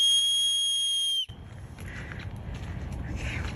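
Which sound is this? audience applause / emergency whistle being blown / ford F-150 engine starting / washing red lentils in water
emergency whistle being blown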